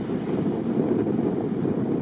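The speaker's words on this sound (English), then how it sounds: "It's fairly windy up here" Steady wind buffets a microphone high on an open New Zealand mountainside, a continuous low rumbling roar that stays loud and unbroken, with no voices.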